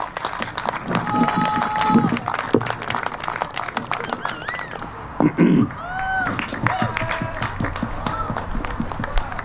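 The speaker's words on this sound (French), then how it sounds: "est-ce qu'on peut encore applaudir pour du coup nos 3 intervenants?" An audience at a commemoration event applauds three speakers, a steady wash of many hands clapping that continues throughout, with scattered voices and a few whistles over it.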